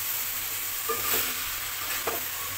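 A mixed vegetable curry with dal bori cooking in a pan, a soft continuous sizzle with a few light spatula scrapes, close but quiet, no talking.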